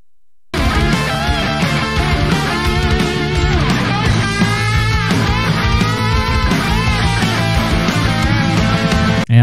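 Full band music with layered guitar parts over bass and keyboard, loud and steady from start to finish.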